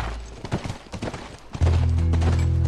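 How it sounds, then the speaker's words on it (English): Horse hooves clip-clopping in the video game The Last of Us on PS3, a short run of near, rhythmic hoof beats over a ranch setting, ending in a sustained loud low hum that swells at the close. "That's our horse."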